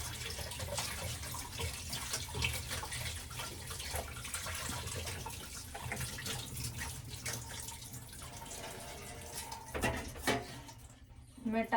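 Coriander rinsed under a running kitchen tap, continuous splashing water close by with small clinks near the end, voices faintly present beneath.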